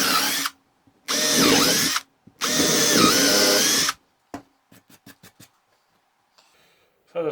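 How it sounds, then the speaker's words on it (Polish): A power drill boring holes into wood for a wooden garden bench, with three loud whirring bursts of about a second each, close up. Short clicks and taps follow between the bursts. "nawiercę sobie 3 otwory."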